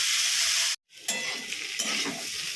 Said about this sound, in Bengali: এই যে পোস্ত আমার প্রায় ভাজা হয়ে গেছে